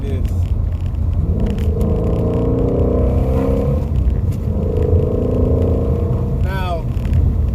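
Ford Mustang Shelby GT350 cruising on the street at about 60 mph, a steady low engine and road rumble filling the cabin with a brief swell midway and no talk.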